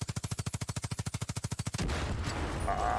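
Rapid automatic gunfire in the video game Far Cry 5, a loud steady burst of about twenty evenly spaced shots lasting nearly two seconds, then cut off into a noisy rumbling wash.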